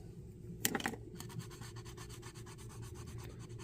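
Pointed cotton swab wet with alcohol scrubbing battery acid corrosion on a Nintendo NES circuit board: a brief louder burst of scratching, then steady, rapid, close rubbing strokes continuing throughout.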